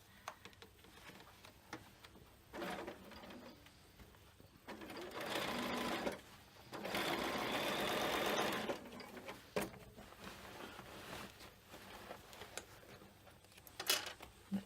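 A sewing machine stitching a bicycle frame bag, running in several short and longer bursts of rapid mechanical whirring, close and fairly loud, separated by quieter pauses with small handling clicks.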